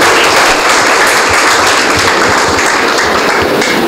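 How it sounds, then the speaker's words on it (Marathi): Loud, dense audience applause fills a hall at the opening of a parenting interview, continuous clapping from many hands throughout, close and sustained. "आपण जोरदार टाळ्यांनी सुरुवात करूया आदर्श पालकत्वाची कहाणी"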